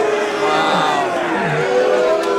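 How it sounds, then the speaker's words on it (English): Boxing crowd at a club fight night voicing dissent at the judges' decision, a loud, sustained mass of overlapping shouts and jeers. "I hear some dissension from the crowd."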